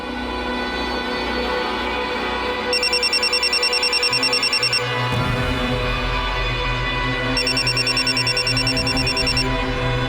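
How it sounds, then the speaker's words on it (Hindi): A telephone rings in two repeated bursts of bright electronic trilling, with a low steady hum and background murmur underneath. "भाभी सा का फोन बज रहा है।"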